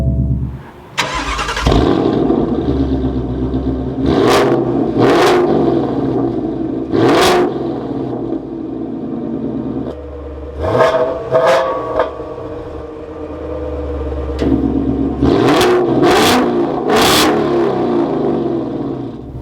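A 2021-2022 Ford Mustang Mach 1 Premium V8 is started with the clutch held, then revved repeatedly, loud close throaty bursts rising and falling over a steady idle rumble.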